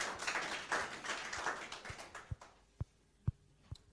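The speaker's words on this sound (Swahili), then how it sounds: "Arudhi, mpige makofi." Students in a classroom at St. Mary's school in Kawangware break into quick overlapping applause that tapers off, leaving a few separate sharp claps spaced out at the end.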